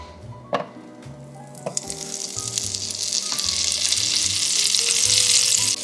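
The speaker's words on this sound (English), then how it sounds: "I'm gonna add a couple of tablespoons of butter to a hot skillet" A couple of tablespoons of butter hit a hot skillet and sizzle, starting with a few sharp pops and clinks, then swelling into a loud, steady frying hiss that builds toward the end, no talking.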